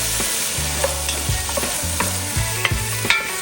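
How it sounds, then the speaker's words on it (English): Chopped andouille sausage fries in a pan over low heat as its fat renders, giving a continuous sizzle broken by repeated scraping stirs and occasional spatula taps, close up, with no talk. "Right now your main goal is to render the fat out of the andouille sausage."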